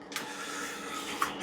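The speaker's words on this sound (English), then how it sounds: "The ice machine is on." Inside a home pub shed, an ice machine runs in the background, giving off a faint, steady mechanical whirring hum with a couple of soft clicks.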